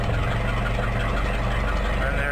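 An engine fitted with an intake heater idles steadily after starting, giving a continuous low, even rumble that is close and unchanging throughout.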